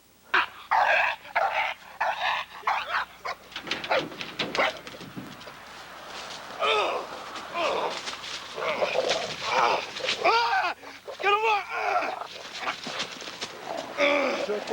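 American Bulldogs kept as home and business protection dogs bark loudly and repeatedly in bursts, with people talking and shouting among the barks.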